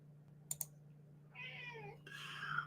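A house cat meows and whines for attention in a quiet room, a couple of soft drawn-out cries alongside a few faint clicks, fairly close, with no one talking.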